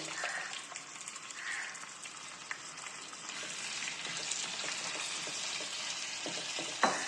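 Minced mutton keema frying in a pan gives a steady, close sizzling hiss throughout, with faint stirring scrapes and a brief louder clatter near the end; no one speaks.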